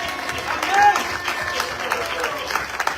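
Congregation in a church service clapping and acclaiming, a steady wash of applause and crowd noise at moderate level throughout, with a brief whistle or cry rising above it.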